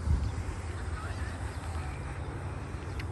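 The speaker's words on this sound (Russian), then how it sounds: "Утки." Ducks quacking and honking by a golf club pond, faint scattered calls over a steady outdoor background of wind and distant noise.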